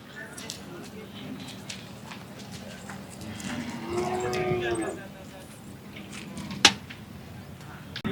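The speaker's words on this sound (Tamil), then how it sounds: "கிட்டத்தட்ட 300 மாடுகளுக்கு பக்கத்தில் இருக்குங்க" Kangayam breed cattle at a busy outdoor cattle market, with a clear low moo near the middle among general crowd murmur, occasional clinks and a sharp knock, while people talk throughout.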